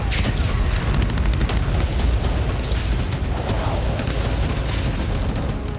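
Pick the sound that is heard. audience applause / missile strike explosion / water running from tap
missile strike explosion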